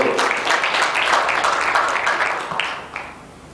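An audience at the 5th International Benchmarking Conference in Kuwait claps in a dense burst that tapers off over a few seconds, with no talk over it.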